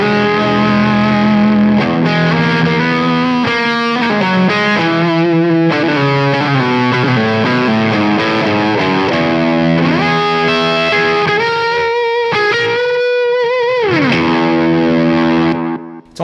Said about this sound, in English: it's almost like a real thick, psychedelic sort of fuzz meets distortion.